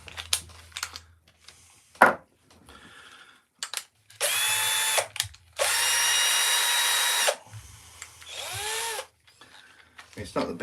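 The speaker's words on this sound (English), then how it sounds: "We'll drill it again." Several bursts of a power drill whining as it bores, each a few seconds long with short pauses between, close by, with brief clicks and knocks around them.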